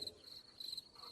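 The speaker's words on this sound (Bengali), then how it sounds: "কেবল বাইরে ঝিঝি ডাকছে।" Crickets chirp steadily outside at night, a faint, continuous high trill with no other sounds.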